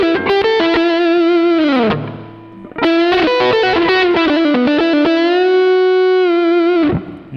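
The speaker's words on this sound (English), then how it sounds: "this is the first guitar ever where I can dial in all the distortion I want from the amp alone" Heavily distorted electric guitar, a Johnson JLP-75-BK driven by amp distortion alone with no booster, plays a sustained melodic phrase, loud and saturated, with a brief pause before continuing and ringing out.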